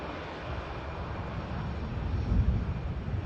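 An airliner touches down at Manchester Airport, a broad roar of engines and rushing air growing louder toward the end, heard from a distance without speech.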